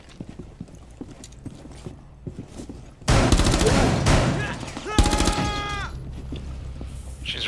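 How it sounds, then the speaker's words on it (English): Shotgun blasts in Rainbow Six Siege, a loud cluster of booming shots around the middle and another run a couple of seconds later, ringing tails between, after quieter ambient game noise and under occasional talk. "Shot her 4 times with a shotgun."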